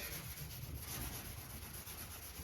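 Steady close rubbing and scrubbing across the paint of a 1961 Oldsmobile Dynamic 88, a continuous gritty swish with no pauses.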